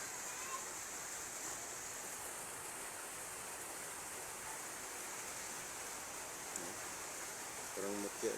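Water bubbles and churns vigorously in a steady rushing wash, with a brief voice emerging near the end.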